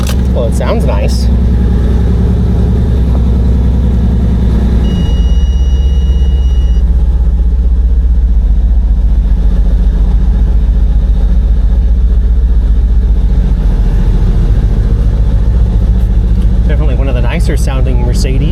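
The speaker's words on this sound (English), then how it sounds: "somebody's done some work on the exhaust. It sounds great. It sounds like an old truck. Sounds like an older V8." Mercedes AMG E63 with a modified exhaust idling nearby, a deep steady low rumble like an older V8 running continuously, with people talking over it.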